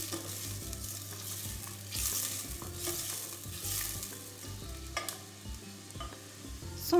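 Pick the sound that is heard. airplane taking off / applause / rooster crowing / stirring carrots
stirring carrots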